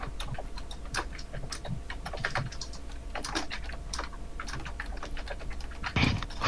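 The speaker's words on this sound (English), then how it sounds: "Who's typing?" Someone types on a computer keyboard, producing a quiet, steady stream of rapid clicking keystrokes with no voices.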